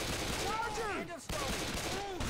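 Rapid automatic gunfire in Left 4 Dead 2 rattles in a dense burst, briefly dropping out near the middle before resuming, with voices chattering underneath.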